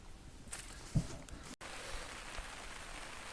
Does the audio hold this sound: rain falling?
yes